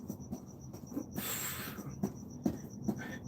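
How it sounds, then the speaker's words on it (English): Steady chirping of crickets continues through the whole stretch with no talking, broken by a brief rush of broadband noise near the middle. "I love the cricket noises."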